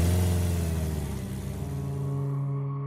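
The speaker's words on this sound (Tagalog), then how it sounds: "Habang sakay kami ng motor at binabagtas ang daan pa uwi," A motorcycle travelling along a road home at dusk, its engine droning steadily with a low continuous hum and harmonic whine, close and fairly loud, alone without talk.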